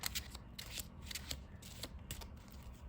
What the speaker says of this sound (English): Shuffle, and I'm going to shuffle on this side.